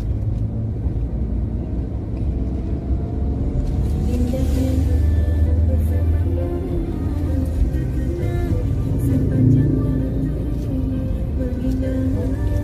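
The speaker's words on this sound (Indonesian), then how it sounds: "Ini banyak sekali mobil-mobil ini ya." Heavy road traffic in Tangerang: a steady, loud rumble of many cars and engines passing continuously, with a swelling whoosh midway, heard from close by along the roadside.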